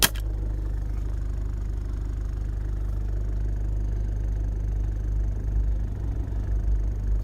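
A truck engine idles close by beside a barley field, a steady low throbbing rumble that holds evenly throughout after a brief sharp knock at the start.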